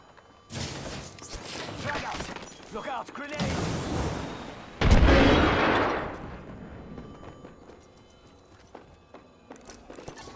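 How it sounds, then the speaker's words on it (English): Bursts of gunfire and mechanical clatter in a video-game battle, a few loud cracks and a heavy blast near the middle, with game voice callouts in between and a quieter tail. "Taking fire!"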